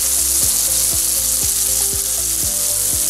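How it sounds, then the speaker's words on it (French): Chicken briouates deep-fry in hot oil with a loud, steady sizzle and bubbling, plus a faint regular ticking underneath. No voices are heard. "Là, les briouates, on les plonge dans l'huile chaude."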